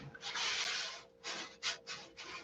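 A control line model airplane wing being sanded by hand, a run of raspy rubbing strokes, one long stroke then several shorter quick passes, close and fairly quiet with no voices.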